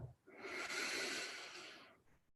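A single long, deep breath drawn in through the nose during a guided breathing exercise, close and soft, lasting about two seconds with no talking.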